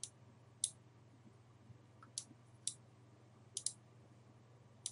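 Sharp, quiet computer mouse clicks come singly and in quick pairs at irregular intervals over a faint steady hum, with no talking.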